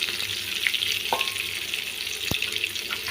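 Raw banana slices fry in a pan with curry leaves, giving a steady close hiss and crackle that runs throughout, broken by a couple of short sharp clicks.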